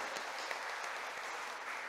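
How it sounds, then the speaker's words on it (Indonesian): Church congregation applauding Pastor Besi Brens Karwe during a Sunday worship service, a steady wash of clapping held at moderate level throughout. "Mari kita tepuk tangan untuk Ibu Pendeta Besi Brens Karwe."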